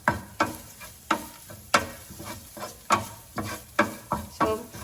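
A coconut mixture for carrot thoran is sautéed in a pan, a spatula scraping and stirring in regular strokes over a soft sizzle, close up, with no speech.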